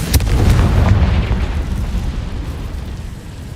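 A Confringo blasting spell detonates in Hogwarts Legacy, a loud, deep rumbling boom that hits at once and then rolls and fades over a few seconds.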